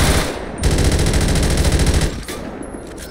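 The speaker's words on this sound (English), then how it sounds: "Why is this guy shooting me, man?" Rapid machine-gun fire in GTA 5, a dense rattling burst of loud, closely spaced shots lasting about two seconds before cutting off.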